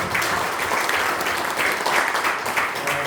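An audience applauding at an alumni association general meeting of a theological university, a short burst of even, sustained clapping from a sizeable crowd in a hall.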